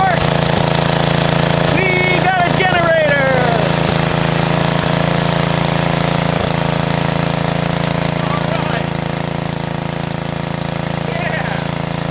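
A small Generac generator engine runs steadily at a loud, constant drone after a carburetor replacement, with a person talking briefly over it early on.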